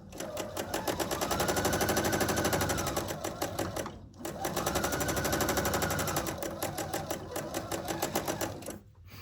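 Sewing machine stitching a quarter-inch quilt seam, a fast loud mechanical rattle in two long runs separated by a brief pause.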